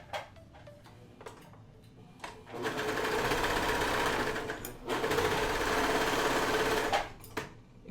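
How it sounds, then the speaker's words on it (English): Serger overlocking the edges of face mask fabric, short ticking starts and then sustained fast whirring runs in two long bursts, close and loud with brief pauses. "So I'm just gonna serge this really quickly."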